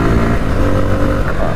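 A Bajaj Pulsar F250 motorcycle engine revs loud and close on a test ride, a dense steady mid-range drone throughout.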